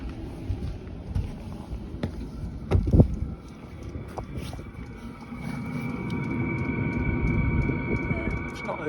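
A DIY-fitted diesel heater runs outside, heard as a steady low rumble that swells in the latter half, with wind noise and a person talking nearby.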